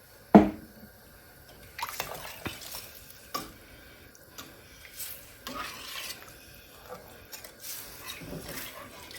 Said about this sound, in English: And scrape that bottom.